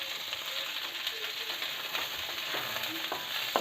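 Sliced onion and cauliflower frying in a pan for vegetable masala khichadi, a continuous even sizzle close by with faint, occasional scraping of a spoon stirring through.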